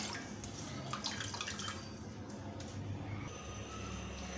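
Moringa pods are washed by hand in water, giving a continuous close splashing and sloshing with scattered drips, fairly quiet and with no talk.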